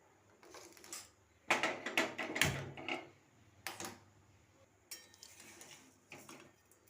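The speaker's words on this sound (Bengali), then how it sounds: "এরপরে আমি কড়াইটাকে গ্যাসে বসিয়ে দেব" A metal wok is set down on a gas stove in a home kitchen, producing several clanking, scraping metallic knocks in short bursts, close and moderately loud against a quiet background.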